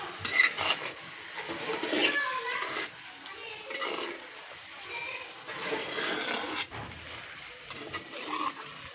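Chicken cooking with tomato in a pot for biryani, a spoon scraping and stirring against the metal in repeated clattering bursts, with a faint sizzle underneath.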